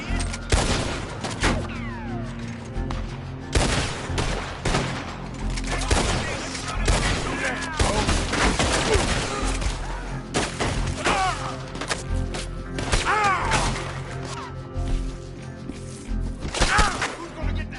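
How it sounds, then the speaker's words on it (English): Intense gunfire in a Red Dead Redemption 2 shootout: rapid overlapping shots and volleys crackle continuously for the whole stretch, loud and close, with shouting voices mixed in. "Shoot them before they shoot you, you idiot!"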